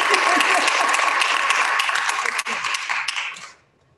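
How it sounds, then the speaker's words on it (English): A small breakfast gathering applauds its panelists with steady close clapping that holds for several seconds, then cuts off sharply into quiet. "we'll just all applaud"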